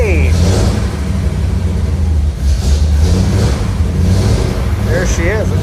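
Old car engine running after a fuel delivery fix, with choke applied: a rough, uneven idle rumbling continuously up close, with a voice talking over it and a few short whistle-like sounds near the end.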